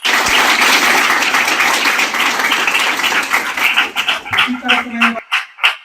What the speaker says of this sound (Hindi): ताली बजाइए आप लोग